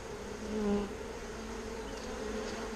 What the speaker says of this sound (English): Let's shake all these bees off.